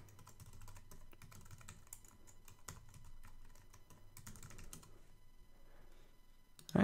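A password is typed on a computer keyboard in a quiet room, a soft, uneven run of key taps with brief pauses between bursts.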